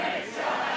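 A church congregation at a Sunday morning service lets out a brief collective shout, a faint, blended crowd roar with no single voice standing out.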